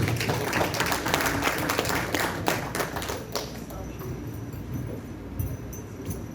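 An audience at a commemorative gathering breaks into applause that is loud and dense at first, then thins and fades over a few seconds, with voices murmuring underneath.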